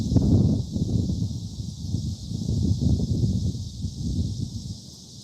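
Outdoor wind buffets the microphone beside the Yellowstone River, a heavy, low rumbling roar that swells and eases in gusts without pause.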